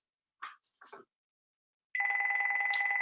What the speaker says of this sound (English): Apologize for the phone in the background here.